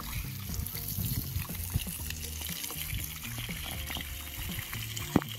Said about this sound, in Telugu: ఇట్లా వాటర్ డైలీ పోయాలి కదా?